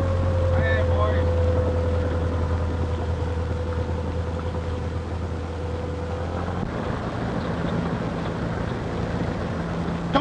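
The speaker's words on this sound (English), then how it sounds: "Could be a motorboat." A motorboat engine drones steadily on open water, a loud low hum with wind noise. Partway through, the engine tone shifts and the sound turns rougher and more broadband.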